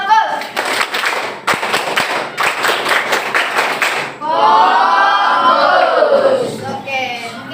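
A school class performs a 'tepuk fokus' clapping routine, with sharp rhythmic group claps for about four seconds, then voices chanting together close by.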